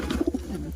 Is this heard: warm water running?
no